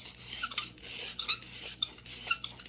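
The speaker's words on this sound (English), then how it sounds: "I'm basically just using this diamond to get it smoothed off" A Simmons steel broadhead is rubbed back and forth on a diamond sharpener, making a rhythmic, close rasping scrape about twice a second, with no talking.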